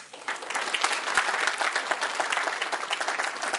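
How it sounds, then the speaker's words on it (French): An audience at a Guinean independence anniversary gathering applauds, a steady crowd of many hands clapping with a slight rhythmic pulse, fairly close and continuous from start to finish. "Je vous demande de les applaudir et de les soutenir."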